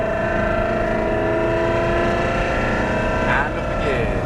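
A Ferrari accelerating out of a corner on a track, its engine a loud, steady drone that rises in pitch toward the end, with an instructor's voice over it.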